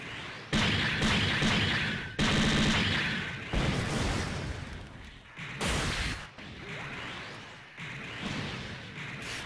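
Beam rifle fire from a Crossbone Gundam X-3 in SD Gundam Online, several loud booming energy shots with long decaying tails, spaced irregularly a second or two apart.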